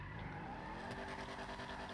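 A car drifts with sustained, loud tire squeal and a revving engine in GTA 5, one continuous skid lasting the whole moment with no voices.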